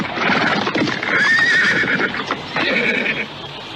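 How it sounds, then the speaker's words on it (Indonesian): A horse pulling a carriage neighs loudly in a long whinny, with the clip-clop of hooves and rumbling carriage noise underneath. "kereta kuda itu sampai di rumah Nyai Jari-Jari."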